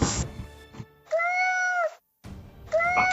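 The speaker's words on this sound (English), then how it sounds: "A cat hologram." A cute cat hologram gives a few clear, bright meows, each rising and falling in pitch and separated by short pauses, close and loud with no talking.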